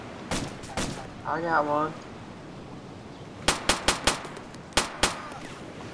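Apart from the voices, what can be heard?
gunfire in Arma 2 video game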